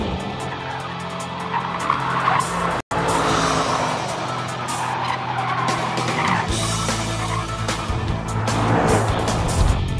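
A Mercedes-AMG performance wagon in rear-wheel drift mode squeals its tires in a long, sustained skid while the engine roars, loud and close, with the screech rising and falling over about ten seconds.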